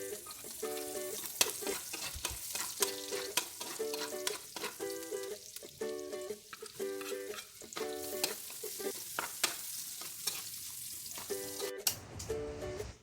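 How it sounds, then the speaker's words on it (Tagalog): Garlic and onion sauté in a pan with a close, steady sizzle and crackle, overlaid by repeated short tonal chirps at a regular pace and occasional stirring scrapes, with no speech. "Maggisa na tayo ng bawang at sibuyas."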